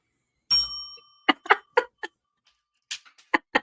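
A single bright bell ding rings in a party quiz game and fades quickly. Scattered sharp clicks and taps follow in an otherwise quiet room.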